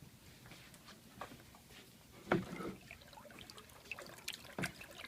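Pottery glaze being stirred in a bucket, a quiet wet sloshing and trickling with soft irregular splashes across the whole stretch.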